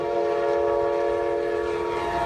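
A train horn sounds a loud, sustained chord that holds steady and unbroken throughout, with no other sounds alongside it.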